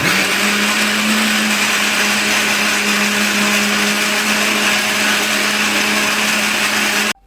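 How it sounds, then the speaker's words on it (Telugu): A kitchen mixer grinder whirs loudly and steadily for several seconds blending cake batter into a smooth paste, a constant motor drone close by that cuts off abruptly at the end. "మిక్సర్లో బాగా స్మూత్ పేస్ట్ వచ్చేదాకా మనం మిక్సీ వేసుకోవాలన్నమాట"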